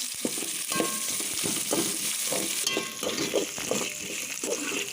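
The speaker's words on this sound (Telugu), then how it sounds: "ఇప్పుడు కొంచెం కరివేపాకు వన్ మినిట్ మగ్గనిద్దాం" Curry leaves sautéing in a pan give a soft, steady sizzle with scattered stirring scrapes, fairly quiet and close, with no talking.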